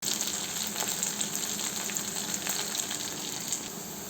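Curry leaves drop into onions and garlic already sautéed in a pan for Tamil bitter gourd poriyal, giving a continuous, fairly loud sizzle and hiss with no pauses.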